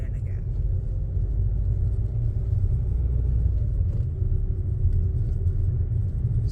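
A learner driver's car creeps forward slowly after the handbrake is released, with a low, steady engine rumble close by throughout.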